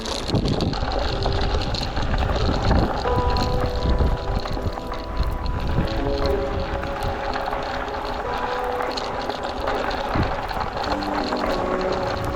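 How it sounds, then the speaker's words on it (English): Strong wind roars steadily across the microphone outdoors beside a VITILAN i7 Pro folding e-bike, a loud, continuous broadband rush with gusty swells and no speech. "There are some strong winds out here today."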